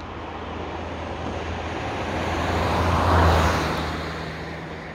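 A car on a road passes close by an RC T-28 landing field, its broad wash of tire and engine noise swelling to a peak past the midpoint and then fading, with no talk.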